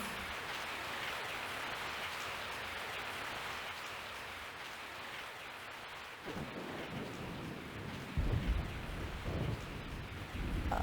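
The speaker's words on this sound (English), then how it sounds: "I woke up to the sound of falling rain." Steady falling rain hisses throughout a scene in Resident Evil 3 Nemesis on PS1, with thunder rumbling in low and heavy near the end.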